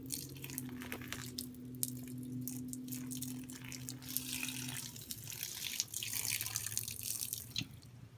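Water runs steadily from a tap onto a frozen AR-15 rifle, a continuous splashing stream with a low hum underneath and scattered drips and clinks.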